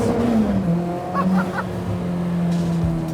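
Kimera EVO38, a reborn Lancia-style sports car, driven hard: a sustained engine drone with shifting pitch and a short squealing burst midway, steady and fairly close.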